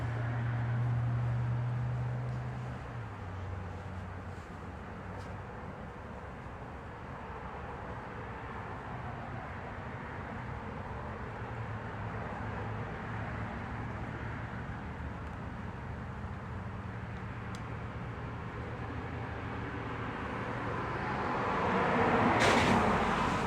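Low, steady traffic noise drones from a distance outside a house, with a faint hum that swells slightly toward the end and a brief sharp rustle close by at the finish.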